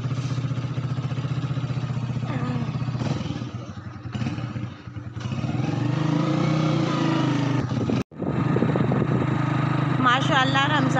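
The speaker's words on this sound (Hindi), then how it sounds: "और अब हम बाइक पे अपने बैठने लगे हैं।" A motorbike engine runs steadily while riding on a road before dawn, a loud close drone that dips briefly and resumes, with people talking over it.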